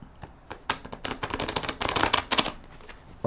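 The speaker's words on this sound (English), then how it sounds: "So I like for you guys to see me dealing the cards." Playing cards are dealt and shuffled close by, with quick, papery flicks and riffling snaps in a busy burst that then thins out to a few soft taps.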